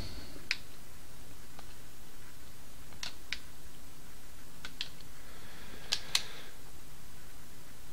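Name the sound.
clicking buttons on a knockoff game controller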